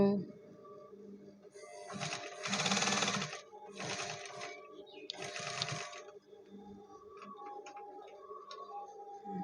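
Sewing machine backstitching over a seam to secure elastic to the fabric of a garment under repair, with three short bursts of rapid stitching from close by and quiet talk in the background.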